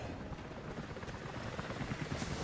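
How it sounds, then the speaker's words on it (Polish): Helicopters approaching in the video game Rise of the Tomb Raider: a continuous, fairly faint rotor drone and thrum with a steady chopping texture, alone without talk. "w twoją stronę lecą helikoptery."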